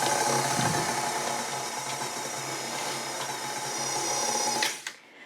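Coffee and walnut cupcake batter being beaten in an electric mixer, a steady loud motor whirr running throughout before cutting off near the end.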